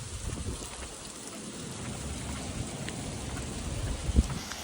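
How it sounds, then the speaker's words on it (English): Rain falling outside an airport in Post Falls as it turns to hail makes a steady patter with low rumbling, moderately faint throughout, with a sharper impact near the end. "the rain had turned into hail."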